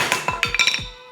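Hammer striking a metal widebody panel on a drift car, a quick burst of about six sharp ringing metallic clinks, close and loud, followed by a brief pause.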